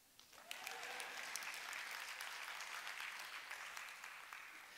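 A church congregation at a morning service breaks into sustained applause, steady and fairly even clapping from many people that carries through the whole stretch without talk.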